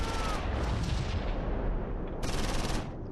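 Battle gunfire from the Close Combat IV war game at Losheim: dense, continuous bursts of rifle and machine-gun fire with booming impacts, loud and unbroken throughout, with no talking.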